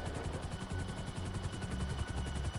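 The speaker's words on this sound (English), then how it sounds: "Because you have to follow the helicopter." Helicopter in a video game, a steady low rotor thrum holding loud and continuous throughout, with dense rattling bursts like gunfire mixed in.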